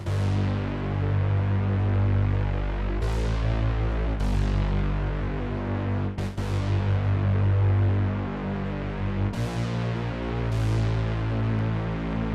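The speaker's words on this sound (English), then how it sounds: "So this is a synth bass right here," A deep synth bass recorded on a Rev 2 synthesizer plays sustained, throbbing low notes in a dark trap beat, loud and alone, with sharp hits marking new phrases.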